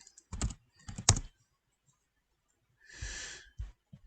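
Short bursts of computer keyboard typing in a quiet room, a few quick clusters of key presses separated by pauses, with a brief breathy noise midway.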